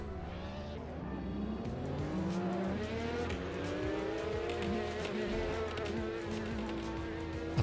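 A 2017 Porsche 911 Turbo S with a 3.8-litre twin-turbo flat-six of about 580 bhp drives at Sebring, its engine note climbing and holding strong in a sustained, continuous run of revs.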